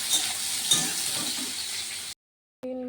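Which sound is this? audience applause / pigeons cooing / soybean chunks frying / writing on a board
soybean chunks frying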